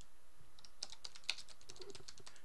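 Sparse, faint keystrokes on a computer keyboard click in short irregular bursts, close and quiet, with no talking.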